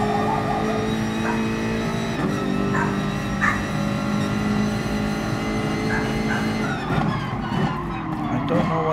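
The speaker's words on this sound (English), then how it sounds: "I don't know what is with the dog today. He's like barking at every sound he hears outside." Dog barks, a few short yelps scattered over the roar of racing cars and tire skids in Gran Turismo Sport GR.3 daily races, faint and set back beneath the steady engine drone.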